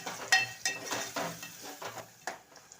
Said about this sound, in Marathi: आता हे मिक्स करून घेऊया